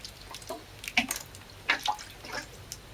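Tap water is given to a potted herb on an indoor windowsill, making a few light, scattered drips and small splashes close by in a quiet room.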